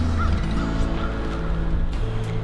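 A handheld owl call used to mimic local owls sounds a series of honking, hooting notes with no talk over them.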